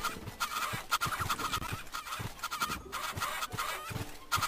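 Chickens in the video game MediEvil Resurrection cluck and squawk in rapid, irregular bursts, loud and close, with no talking over them.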